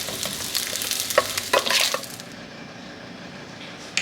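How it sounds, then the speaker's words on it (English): Eggs being scrambled and steak frying in a pan on a stove, close-up sizzle with scraping stirs and spatula clatters in the first two seconds, then a softer steady hiss. "those eggs are getting scrambled up"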